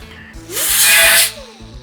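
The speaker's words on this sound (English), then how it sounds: "Let's take a grinder and clean up that edge where I had to, smash that thing off of there." An angle grinder cleans up the cut edge of a muffler from a 1954 Chevy, a single loud, harsh, hissing grind of under a second that ramps up and then fades away.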